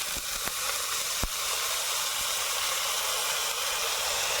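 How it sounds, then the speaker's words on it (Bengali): Chow mein with chopped cabbage frying in mustard oil in a home kitchen, a loud, continuous close sizzle with a few sharp clicks of a utensil near the start. "এবার আমি চাউমিনটাকে ভেজে নেব ঘরোয়া পদ্ধতিতে এখন দেবো সর্ষের তেল বাঁধাকপি কুচনো"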